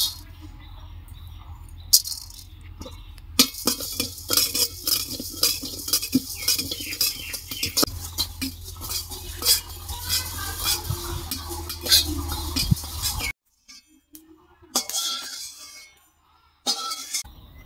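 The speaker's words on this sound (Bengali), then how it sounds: "এখানে আছে ধনিয়া, জিরে আর মৌরি, এটা শুকনো খোলায় ভেজে তুলে নেব" Coriander, cumin and fennel seeds dry-roasting in a pan, with scattered scraping and stirring clicks of a utensil against the metal, a few sharp knocks, and brief pauses near the end.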